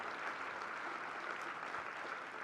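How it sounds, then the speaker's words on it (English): Audience applause at an evening speaking event in Indianapolis: a dense, steady wash of many hands clapping, holding an even level for the whole stretch. "a round of applause for this star"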